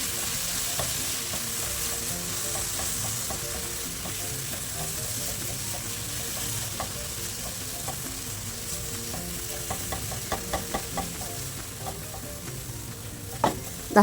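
Ripe banana sautéed and stirred in a pan, giving a steady close sizzle and frying hiss throughout, with spatula scrapes and light clicks growing more frequent toward the end.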